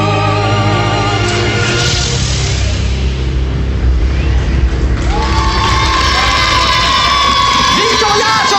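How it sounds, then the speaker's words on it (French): A large crowd cheers and claps loudly and continuously, with shouts and whoops rising over the din, while music plays underneath. "Victoria sur la scène partie Yapi Yap, on l'applaudit bien fort et sa choriste"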